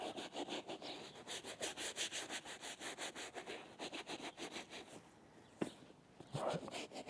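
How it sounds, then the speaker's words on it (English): Suede trainers are scrubbed with a brush from a shoe cleaning kit, a quick rhythmic back-and-forth rubbing close by, pausing near the end before a few softer strokes. "And then we start dipping and scrubbing."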